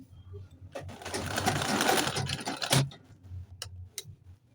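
A sewing machine stitches corset fabric in a close, whirring burst of rapid needle strokes lasting a couple of seconds, followed by a few isolated mechanical clicks and taps as it stops.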